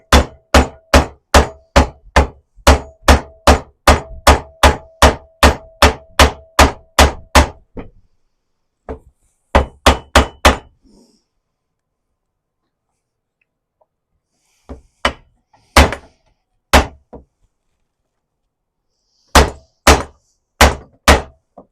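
A hammer strikes a garden tool blade to straighten it: a fast, even run of sharp metallic blows, then a pause, a few scattered hits, a longer silence, and two more short bursts, close and loud.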